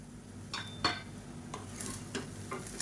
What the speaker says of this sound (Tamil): இப்போ மேலாப்பில் பொடியாக நறுக்கின கொத்தமல்லியில் சேர்த்துட்டு ஒரு பரட்டி விட்டுக்கலாம்.